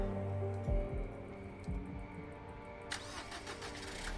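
A car engine in a Nancy Drew video game cranks and catches twice in quick succession, then settles into a steady idle, with a brighter mechanical whir joining near the end.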